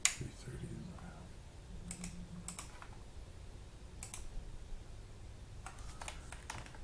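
Keystrokes on a computer keyboard during a TEC330 lab, arriving in short clustered bursts of clicks separated by pauses, faint and close, with a low voice murmuring in the background.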